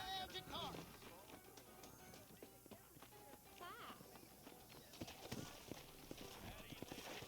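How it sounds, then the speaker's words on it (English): Horse hooves clip-clop steadily at a riding pace in Red Dead Redemption, a near, continuous rhythmic patter of hoofbeats under game ambience, with a brief whinny early on. "we're going to head back out and get on our horse."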